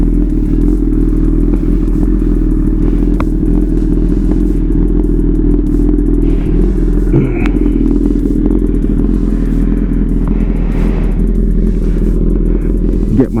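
A Honda CB1000R motorcycle with a freshly flashed, retuned ECU idles and revs close by, a loud continuous engine drone with low rumble and occasional mechanical clatter.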